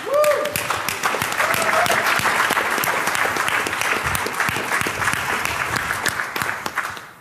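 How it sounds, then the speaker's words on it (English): Sustained applause from a large conference audience at Black Hat 2013, steady clapping lasting several seconds before gradually thinning out at the end. "So please give an applause to Barnaby Jack"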